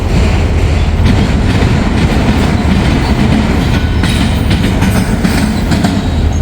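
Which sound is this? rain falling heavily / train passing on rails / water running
train passing on rails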